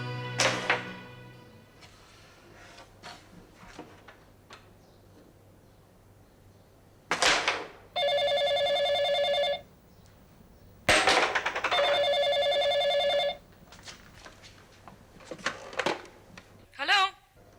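A telephone rings in two long electronic bursts separated by a pause, preceded by scattered thumps and light movement, with a voice answering briefly near the end.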